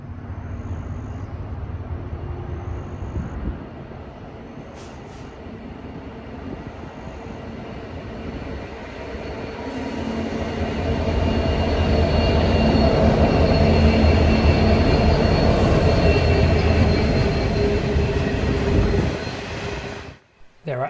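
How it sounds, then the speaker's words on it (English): Two Downer EDI Rail GT46C-ACe diesel locomotives haul a freight train through Sandgate station on the Hunter Line, a steady loud rumble of engines and wagons that swells midway, holds, then cuts off abruptly near the end. "Coming into view now are 2 Downer EDI Rail GT46C-ACe locomotives."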